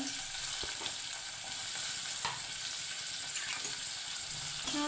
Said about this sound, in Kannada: ಈರುಳ್ಳಿ ಟೊಮೊಟೊ ಹಾಕಿ ಮಿಕ್ಸ್ ಮಾಡ್ಕೊಳ್ಳಿ